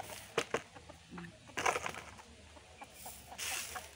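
Chickens cluck in short bursts, several birds close by, with scattered louder squawks and soft scratching between calls.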